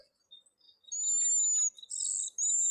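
A played recording of cedar waxwing calls gives thin, very high-pitched, drawn-out whistles in several separate bursts, clean against a quiet background.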